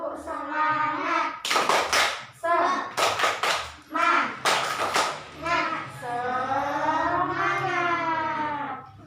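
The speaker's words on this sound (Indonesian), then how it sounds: "Tepuk semangat." Schoolchildren and their teacher perform a rhythmic group clapping chant called tepuk semangat during a lesson, with sharp bursts of claps in quick sets between loud chanted voices.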